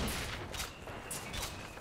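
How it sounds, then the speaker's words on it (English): Rocket launcher fire in the video game Bioshock Infinite, a rapid run of loud explosive blasts and booms, several bursts within a couple of seconds, with no talk over them. "that is a rocket launcher"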